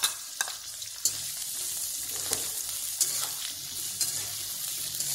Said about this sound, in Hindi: और प्याज डालेंगे हम बारीक कटा हुआ